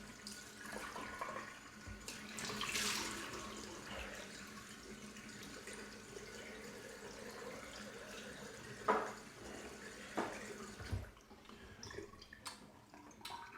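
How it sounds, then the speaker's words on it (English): Cold water runs and splashes from a tap into a sink, with scooping and splashing as hands rinse the face after a safety razor shave, fairly quiet and close with no talking. "Now what I do is I rinse my face with cold water."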